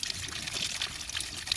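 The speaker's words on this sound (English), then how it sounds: "You can hear it bubbling air out of it." A water-driven ram pump bubbling air out along with water, a steady close gurgling and trickling wash of liquid with no pauses.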